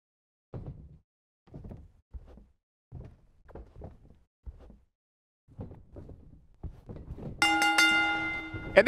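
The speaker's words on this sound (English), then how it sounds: "there's the bell, and here we go" A wrestling ring bell clangs near the end of a women's championship match entrance, a bright ringing strike with a lingering tail, following a series of dull thuds and muffled knocks.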